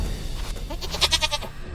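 A goat in the Deadly Daycare VR game bleats in a quick run of short, wavering cries at close range, clear and fairly loud, with no talk over it.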